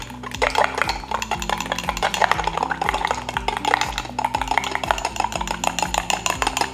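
A spoon stirs a generous spoonful of caramel into butterbeer in a jar, giving a busy run of rapid scraping and clinking against the glass, close and steady throughout under a low repeating musical backing.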